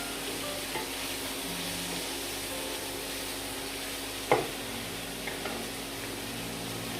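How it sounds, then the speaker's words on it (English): Aviyal vegetables being stirred with salt in a pan for the Kerala-style dish, a steady soft sizzle and rustle with a single sharp scrape of the spoon midway and a couple of lighter knocks after. "as of now add little salt and stir it well"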